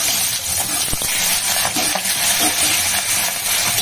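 Four pieces of pabda fish, coated with salt, turmeric and oil, fry in a pan with a loud, continuous sizzle and occasional clinks and scrapes from stirring or turning.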